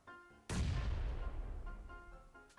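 A grenade explodes in the PUBG Mobile battle game with a sudden loud boom that rolls into a long decaying rumble, preceded by faint tonal game sounds.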